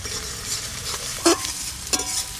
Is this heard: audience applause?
no